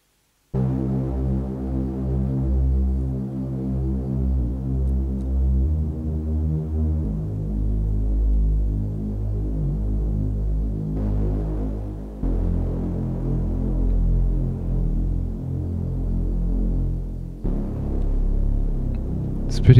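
A bass track plays back solo in a mix, a deep, sustained throbbing line of long held notes that shift in pitch every few seconds, steady and loud with no talking.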